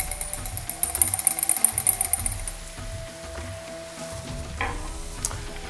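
Chicken frying with turmeric in a hot pan, a close steady sizzle with clattering stirring scrapes in the first half, then a softer continuous hiss.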